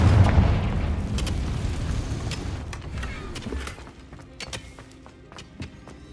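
Booming Confringo blasting curse in Hogwarts Legacy, a heavy explosion at the start that rumbles and fades, followed by scattered crackles and small pops.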